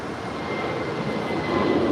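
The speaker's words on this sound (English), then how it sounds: "this arrival there on the north side is All Nippon Airways Flight 126 coming in from Tokyo, Haneda. It's a 787-8 Dreamliner." An All Nippon Airways Boeing 787-8 Dreamliner arriving at Los Angeles airport gives a steady broadband engine rush that grows slightly louder toward the end, with no talk.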